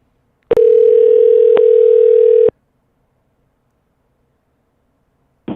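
An outgoing telephone call rings on the line: one steady two-second ringback tone, then a long silence before a brief sound at the very end. The tone is fairly loud and clear, with no talking.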